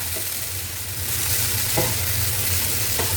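Potatoes sizzling steadily in hot oil for a mixed vegetable dish, with a few clinks of a spoon stirring the pan, no voices.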